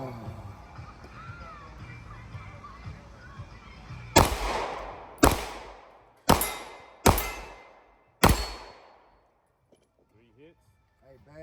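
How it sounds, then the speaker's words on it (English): Five sharp gunshots ring out at an outdoor shooting range, spaced roughly a second apart, each loud and close with a short ringing decay, followed by quiet with faint handling sounds; low background murmur before the shots. "We're incorporating the reload now. 5 shots, reload, 5 shots."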